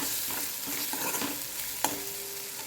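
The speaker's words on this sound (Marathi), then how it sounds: "आता आपण हे मिक्स करून घेऊया" Fried tomatoes with a pinch of turmeric are stirred in a kadhai, a steady sizzle with scraping strokes of the spoon and a sharp clack near the end, close and alone without talk.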